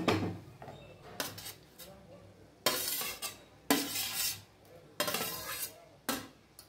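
Egg paneer fried rice being stirred in a pan, sharp clanks and scrapes of a metal spoon against the pan in separate bursts with quiet pauses between them.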